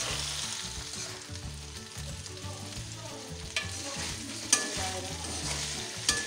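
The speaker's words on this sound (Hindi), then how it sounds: "अब 1 से 2 मिनट तक मैं फ्राई करूँगी, फिर उसके बाद मैं निकाल लूँगी।" Okra (bhindi) frying in a pan for an okra masala dish, with a constant close sizzle and crackle under soft stirring scrapes and a few sharper clicks of the utensil against the pan.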